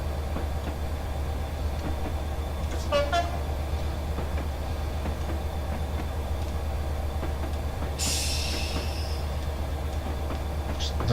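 Class 67 locomotive braking in a train simulator game, a low steady rumble under a faint whine, with a brief horn-like tone about three seconds in and a hissing air-brake release near the end.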